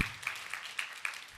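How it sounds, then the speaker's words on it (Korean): Church congregation applause during a Sunday service, a soft continuous wash of many hands clapping with a few louder accents, moderately distant, with no talking over it. "자, 우리 박수."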